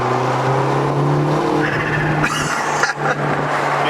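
A McLaren GT engine idles with a low, steady fluttering hum. A brief louder burst comes near the end, with no voices.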